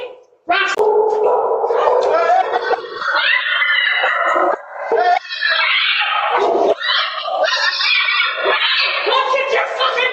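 A dog barks and yips amid loud, agitated shouting from people close by, the barking partly buried under the voices throughout.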